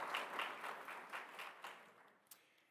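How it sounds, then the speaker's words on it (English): An audience at a university agricultural college award ceremony claps in a short burst of applause that fades over a few seconds, faint and distant. "You may give him a round of applause."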